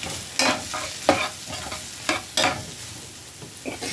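Garlic and onions frying in olive oil and butter, seasoned with Italian seasoning and red pepper flakes, give a steady sizzle broken by repeated scraping stirs of a utensil across the pan.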